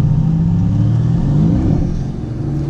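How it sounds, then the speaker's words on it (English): A car in race mode accelerates hard from a standstill at a traffic light, a loud, continuous engine roar with rising pitch heard from inside, alone without talk. "Why don't we test the 0 to 60 by going into race mode?"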